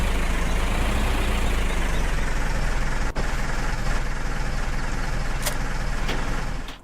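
A tractor engine in the Farming Simulator 2015 video game runs with a steady, loud rumbling drone, and a couple of brief clicks break through before the sound fades at the end.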